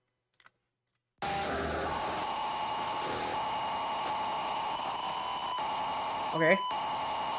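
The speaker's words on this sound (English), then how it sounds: "Lots of static." Steady broadband static hiss running through an electronic industrial song, filling the clip after a brief silent start, with a short bright beeping burst near the end and a quick spoken word at the start.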